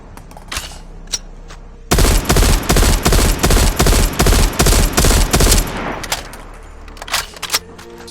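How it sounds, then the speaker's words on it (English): An M16 rifle fires in COD Mobile with a loud, rapid string of about a dozen sharp shots in close succession. Scattered clicks and handling sounds come before the burst, and a fading tail follows it. "I'm not really used to the M16 firing sound because I don't really use it."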